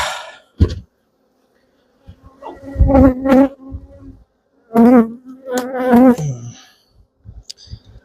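Honeybees buzz loudly around a hive in close passes, several short droning bursts separated by stretches of near silence.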